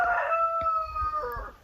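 A rooster crows close by in a village farmyard, a loud drawn-out call that fades off with a short second burst, with soft low thumps and rustling beneath and no talking.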